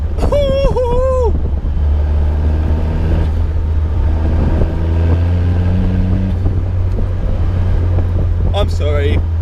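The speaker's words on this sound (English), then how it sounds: "I love turbo noise" A Caterham Seven 160S runs with a steady low engine drone and wind rush, turbo whistle rising in pitched whines at the start and end, under a speaking voice.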